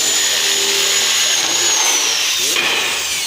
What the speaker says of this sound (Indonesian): seorang siswa akan belajar mengebor bor tangan dengan mengebor plat